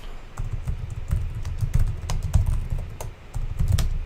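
Irregular clicks of a computer keyboard being typed on, close and steady for about four seconds, with soft low rumble underneath and no talking.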